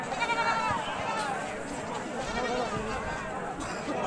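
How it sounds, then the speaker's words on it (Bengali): Goats bleat at a busy livestock market in Birbhum, with repeated wavering calls close by over a murmur of crowd chatter and someone talking. "এখানে ধাড়ি ছাগল আছে"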